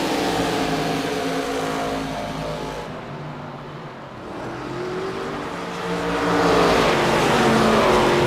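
An ARCA race car on the track at Iowa roars past under hard acceleration, its engine note loud and continuous, easing slightly midway before swelling again as the car pushes on.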